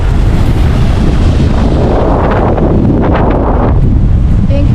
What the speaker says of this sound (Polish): No i widzę rozszalały ocean.